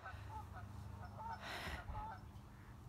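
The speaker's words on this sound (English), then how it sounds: "That sound is actually geese." Geese honk at a pond, a few faint nasal calls at a distance amid wind-like noise and a rustling burst in the middle.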